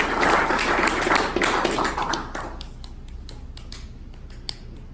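At a startup pitch night an audience applauds, the clapping dense and loud at first, then thinning over a few seconds into scattered individual claps.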